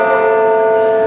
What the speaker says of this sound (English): This is Old City Hall, now ringing its bells.